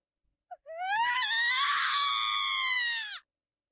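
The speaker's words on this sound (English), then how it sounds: "suddenly I heard a scream in the distance" A single long, high wailing scream rings out for about three seconds in the video game Raging Loop, rising sharply and then holding steady before it cuts off.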